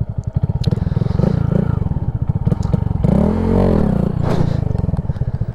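A Honda Grom motorcycle revs hard during a moving wheelie attempt, its small engine buzzing loud and close, surging and falling in pitch with throttle swells and some clattering.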